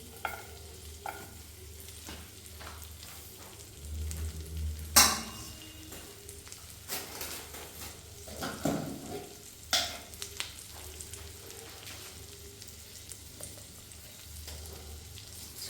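Garlic frying in butter in a pan for a homemade paneer sandwich: a faint, quiet sizzle broken by occasional clicks and knocks of stirring and utensils against the pan, with no talking.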